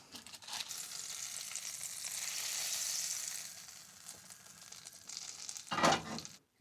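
Onion, mushroom and steak kebab frying on an off-grid homestead, a continuous moderate sizzle that swells in the middle, with a louder clatter near the end and no talking.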